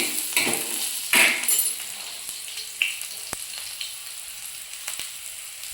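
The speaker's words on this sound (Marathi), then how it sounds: "आता कांदा भाजून घेते मी" Onion fries in a pan for crab curry, a soft sizzle broken by a few sharp clanks and taps of a utensil against the pan, with no talking.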